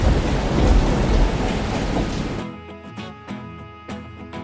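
Heavy rain pours steadily, then eases as low thunder rumbles and cracks sound a few times in the quieter stretch.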